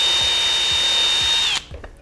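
A power drill whines steadily at high speed while mounting a project box for a homemade microphone, with faint regular knocks beneath, then stops abruptly followed by a few light clicks.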